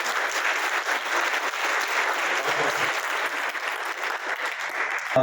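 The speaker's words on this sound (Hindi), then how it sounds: "जोरदार तालियों से स्वागत करें" Audience at a formal welcome gathering in a hall applauds loudly and steadily, a dense wash of many hands that holds for about five seconds without letting up, with no voices over it.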